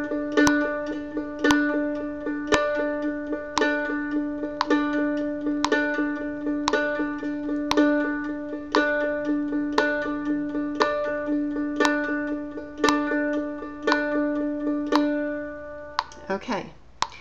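Mandolin tremolo picking on a sustained note, with a strong down rest stroke at regular intervals followed by lighter alternate strokes, a steady even rhythm played close and alone, ending on a brief strum.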